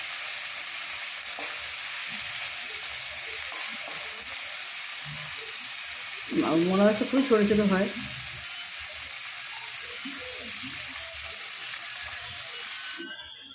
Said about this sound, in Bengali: তেলটা ভালো মতো গরম হয়ে গেলে আমি অল্প অল্প করে মাছগুলো ভালো করে ভেজে নিচ্ছি।